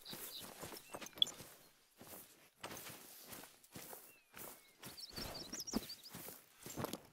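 Footsteps running through a forest in the hunting game theHunter: Call of the Wild, a steady rhythm of soft, repeated footfalls on ground cover with faint ambient forest sounds and occasional bird calls.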